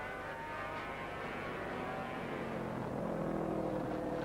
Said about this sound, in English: There you see the 27 bikes twisting and turning through the chicane.